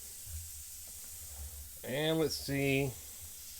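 A Weeden model steam engine with a repaired balance wheel and a new whistle topper gives two short, weak whistle toots with a steam hiss, close by. A brief voice is heard just before.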